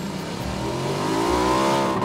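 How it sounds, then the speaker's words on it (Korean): A motorcycle engine revs up in a video game, a loud, rising whine that climbs steadily in pitch over about two seconds with no talking. "오토바이 타고 갈까? 오토바이 타고 가."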